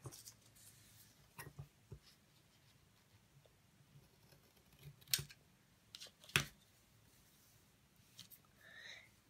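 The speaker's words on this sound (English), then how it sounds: "After that, we cut the smaller triangle off." Scissors snip through a sheet of paper to cut away a small triangle while folding a trihexaflexagon, giving a few faint, close, crisp cuts spread across a quiet room.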